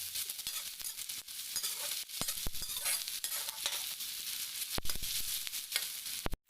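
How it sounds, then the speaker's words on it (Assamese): Carrots for pulao fry in a pan while being stirred, with repeated close scraping strokes over a constant loud sizzle and no voices. "গাজৰ দি মই লৰাই আছোঁ, খাম পোলাও।"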